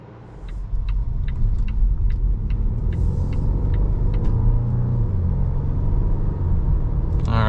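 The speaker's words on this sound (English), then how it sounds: "here we are driving the 2024 Volvo S60 T8 Recharge" A 2024 Volvo S60 T8 Recharge drives along a road, heard from inside as a steady, loud low rumble of engine and tyres, with a faint, regular ticking like a turn signal early on.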